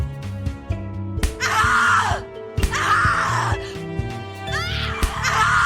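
A woman in the horror game The Cat Lady screams repeatedly in pain, several long anguished shrieks broken by groans and gasps over an eerie, low sustained musical drone.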